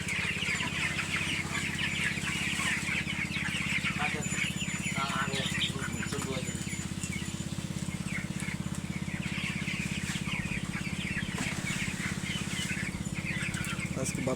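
Chickens on a poultry farm cluck busily and continuously over a steady low hum, with scattered soft scratching and pecking sounds throughout.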